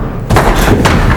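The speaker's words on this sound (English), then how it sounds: "Whipped it a little bit, but got the strike." A 5-pin bowling ball slams into the pins during a televised tournament quarter-final, giving a sudden loud crash followed by a short rattling clatter of pins.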